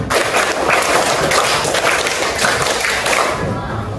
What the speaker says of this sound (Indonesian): tepuk 2, tepuk 3, tepuk 4, tepuk 5, tepuk 5 2 kali